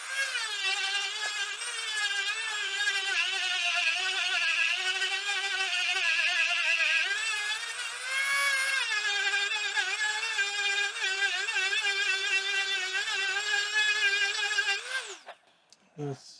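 A Dremel rotary tool cleans up the edges of a cut hole, whining steadily at high pitch with small rises and dips as it bites, then spinning down and stopping near the end.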